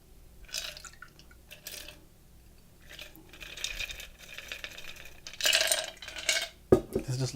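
A mixed cocktail strained from a shaker or mixing glass over one large ice cube in a glass, with bursts of pouring and trickling, faint clinks and a couple of sharper knocks near the end, close up.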